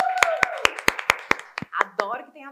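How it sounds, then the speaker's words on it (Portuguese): Sparse, sharp hand claps at a steady pace from a small studio audience on a Portuguese-language podcast, tailing off after about a second and a half as voices and laughter take over. "Adoro que tem aplausos de verdade"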